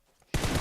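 Gunfire in a BGMI (Battlegrounds Mobile India) esports match bursts in suddenly after a quiet moment as a loud, dense stream of rapid shots with no talk.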